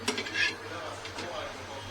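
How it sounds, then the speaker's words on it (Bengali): Cooking of special ghee-fried parathas in a pan comes through as a few clinks and scrapes of a metal utensil against the pan over a low, steady background, with the frying sizzle itself faint. "এই পরোটা ভাজা হচ্ছে, স্পেশাল পরোটা,"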